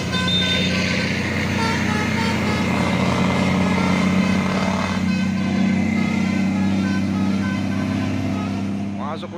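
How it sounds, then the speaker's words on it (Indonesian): A heavy 6x4 HD tanker truck rumbles past on the road, a steady loud engine drone holding throughout with a brief higher squeal near the end. "Masuk lagi truk tangki CPU pemain 6x4 HD."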